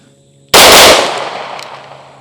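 A compensated handgun fires a rapid double tap on a target range, the two close shots merging into one sharp, very loud blast that rings out and decays over about a second and a half.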